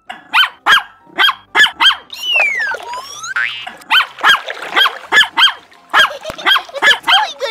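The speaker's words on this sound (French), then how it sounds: "Vous avez vu les chiens?" Dogs bark in a rapid, regular series of loud, close yaps, broken midway by springy boing-like cartoon effects before the barking resumes.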